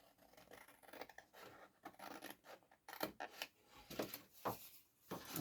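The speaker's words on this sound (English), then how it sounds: "you're going to cut this square off and give it a little bit of an angle cut like this" Scissors cut a square off a paper file-folder flap, giving faint, close snips and rustling paper strokes that come in irregular bursts and grow somewhat more frequent toward the end, with no voices.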